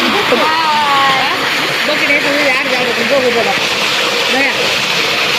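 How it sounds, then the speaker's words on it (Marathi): Broadband rushing water of a waterfall roars continuously, with people talking over it. "धबधबा धबधबा"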